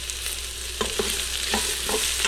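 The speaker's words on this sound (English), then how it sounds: "Go ahead and saute our onions for a little bit." Chopped onions sauté in an Instant Pot set up for birria, giving a steady close sizzle broken by several soft scrapes and stirs of a utensil against the pot, with no talking.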